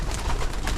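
Racing pigeons in a loft cooing close by, soft low throaty calls over a steady murmur of the flock during cleaning time, with no talking.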